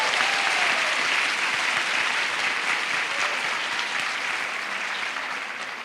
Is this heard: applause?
yes